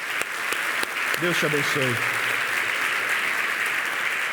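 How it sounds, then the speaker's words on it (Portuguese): A church congregation applauds in sustained, even clapping that fills the room, while a voice speaks a short blessing over it partway through. "Palmas para o extraordinário."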